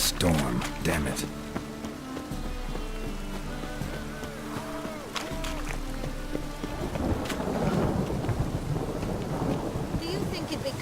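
Thunder rumbles over steady rain during a storm in the video game Witcher 3, with game music and low voices mixed in throughout.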